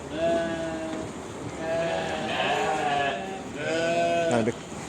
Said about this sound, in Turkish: Bunlar hep dişi kuzular.